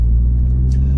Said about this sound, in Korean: 뒤쪽에서 가상의 엔진 배기 사운드가 들리는데